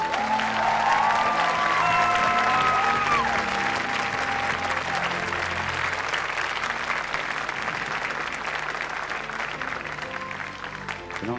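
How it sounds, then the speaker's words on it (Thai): Sustained, loud audience applause fills a televised singing-competition results show in Thailand, dense and steady throughout, with a brief sung or spoken tone rising over it at the start. "ขอเสียงปรบมือดังๆอีกครั้งให้กับคุณน้องครับ"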